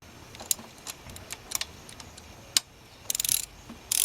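Metallic clicks, clinks and brief ratchet bursts from hex bolts and 14mm nuts being fitted onto a Camry V6 intake plenum, faint and close, scattered irregularly with quick ratcheting runs near the end.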